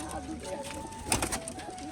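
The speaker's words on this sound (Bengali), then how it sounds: "আর বন্ধুরা এখানে সব পায়রা আটকানো আছে" Pigeons coo softly and close by in a pigeon loft while being held in hand, with faint background noise and a brief louder rustle midway.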